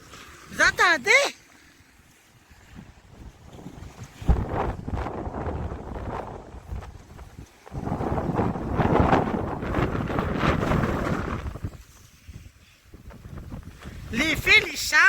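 Strong wind gusting around 90 km/h sweeps past a house and its antenna wires, a rushing roar that swells loudly in two long surges. A person speaks briefly at the start and end.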